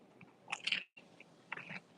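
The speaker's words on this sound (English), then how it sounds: "I'm about to bite this, so I'm gonna chew." Someone bites into food and chews, a few crisp crunchy bites close to the microphone followed by a brief pause and softer chewing sounds, with no talking.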